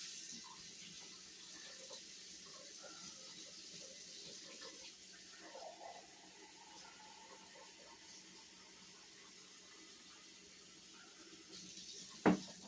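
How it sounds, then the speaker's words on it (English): Warm water runs from a kitchen tap into a glass, a quiet steady trickle that carries on for several seconds before a brief sharp clink near the end. "We're going to need a glass of warm water."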